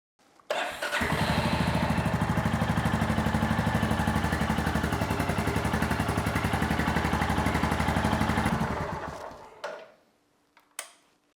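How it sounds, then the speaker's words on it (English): A Royal Enfield Classic 350 Reborn (J platform) motorcycle engine idles steadily and loudly with an even thumping rhythm for about nine seconds, then cuts off, leaving a few faint clicks afterward. "just run the bike up for about 30 seconds to a minute"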